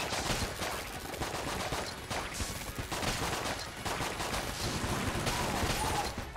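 Rapid gunfire from rapid button-tapped shooting in the video game Enter the Gungeon, a dense, continuous volley of sharp cracks layered with mechanical clicks that keeps up without pause.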